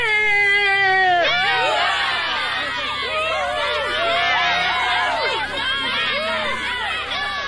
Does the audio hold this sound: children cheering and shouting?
yes